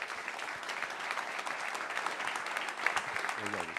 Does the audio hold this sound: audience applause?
yes